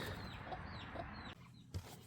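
Soft clucking from chickens nearby, a faint steady stream of low murmuring calls over quiet background noise.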